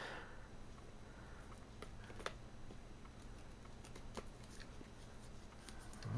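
Limited edition box set packaging being carefully cut open, a faint run of small ticking, scraping clicks and soft taps, close but quiet, with no talking.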